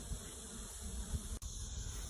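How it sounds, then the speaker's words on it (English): Honey bees hum in a steady, faint drone at the entrance of a new hive box after a wild colony was caught, a low continuous buzz with no voices and a brief dip partway through. "You see the bees? They're going into the front of the entrance of their new box here."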